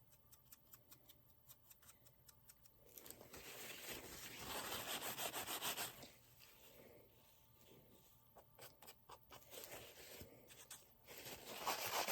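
Finish being rubbed by hand into a wooden Christmas craft piece, soft swishing friction in slow strokes that swell and fade, close and fairly quiet, with light ticks at the start and end.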